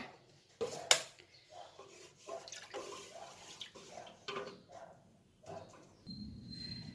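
Leftover water pours into a pot of mango cooking water for kombucha, a splashing, gurgling stream with a few clinks, running steadily for several seconds before tapering off.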